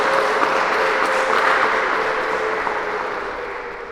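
A crowd applauds a teacher at a parish certificate-awarding ceremony, a dense sustained wash of clapping that slowly tapers off.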